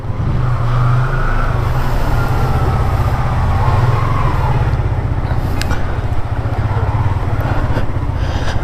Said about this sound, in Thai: ก็คือนะครับเสียงเครื่องยนต์เนี่ย ก็คือ เหมือนกันเลยนะครับ กับ R15